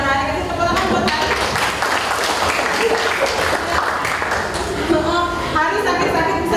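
Classroom applause for a student who answered a logarithm question correctly, a steady wash of clapping from a group of students lasting several seconds, with chatter mixed in.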